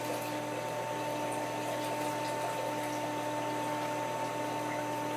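A Norwalk juicer pressing the pulp left over from a Jack LaLanne juicer, heard as a continuous, even mechanical hum with a watery undertone and no break. No speech.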